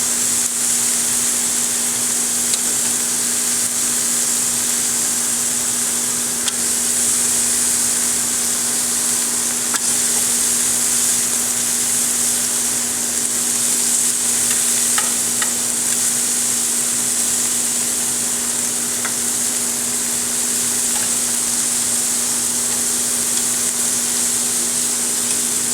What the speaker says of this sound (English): we're going to let these cook for a couple of minutes, and then we're going to flip them over